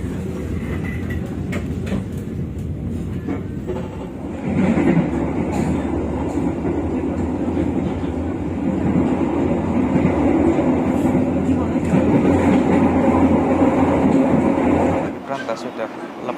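The Brantas passenger train rolls along the rails with a continuous loud rumble and rattling carriage noise heard from inside, swelling slightly midway, and a voice speaks over it.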